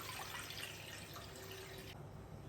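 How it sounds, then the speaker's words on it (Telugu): Water pours into an idli steaming pan with a steady splashing trickle for a couple of seconds, and the pouring stops near the end. "ఇడ్లీ ప్యాన్లో కొంచెము వాటర్ యాడ్ చేసుకుందాము."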